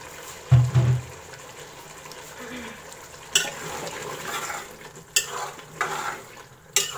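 Boiled turnips tip into frying mutton in a pan, giving a soft thud and then a stretch of stirring and gentle sizzle, with utensil scrapes near the end. Nobody speaks.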